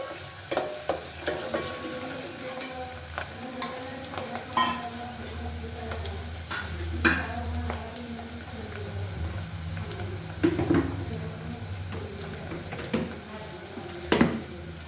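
Onion and garlic frying in a pan for gholachi bhaji, a steady close sizzle with occasional scrapes and taps of a spoon against the pan, no talk.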